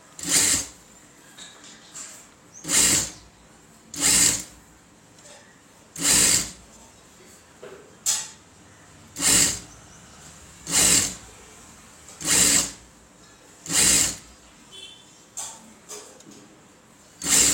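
Short, regular bursts of a sewing machine stitching thread piping on a blouse, about a dozen evenly spaced pulses, each a few tenths of a second, with quiet gaps between.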